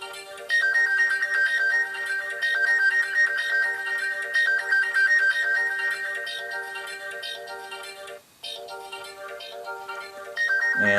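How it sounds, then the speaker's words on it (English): The Pegasus stock ringtone plays on a Samsung Galaxy Nexus phone, a loud repeating melodic chime that runs clearly for several seconds, pauses briefly and then restarts. "the one that I have set on here is Pegasus"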